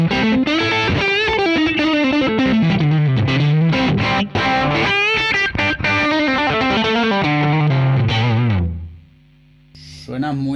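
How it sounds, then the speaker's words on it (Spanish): Overdriven electric guitar through a Blackstar St. James amp plugin set to its Tube Screamer overdrive mode, playing a sustained distorted riff with steady chords and melodic lines, loud and continuous before fading out near the end with a brief final strum. "Vamos a probar ahora el overdrive en su seteo Tube Screamer."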